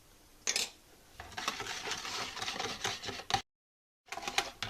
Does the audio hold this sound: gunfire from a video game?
no